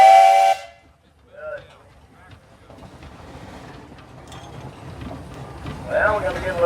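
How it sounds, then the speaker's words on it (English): An antique undermount two-cylinder engine at a tractor parade at the National Oliver Show in Boonville, Missouri gives a short, loud steam whistle toot at the start, then a quieter chuffing engine rumble with faint hissing follows. "Let's have a toot on that whistle"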